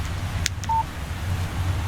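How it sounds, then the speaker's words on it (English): A phone in Alan Wake Remastered plays a text message alert: a short, bright electronic tone over low ambient hum, preceded by a couple of soft clicks. "Text message from Barry."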